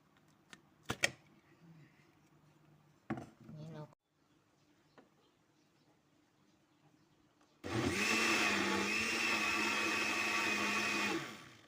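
After a few clicks and handling noises, a blender purees mango flesh for a preserve, roaring loudly and steadily for about four seconds before cutting off.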